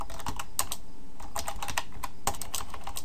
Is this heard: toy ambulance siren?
no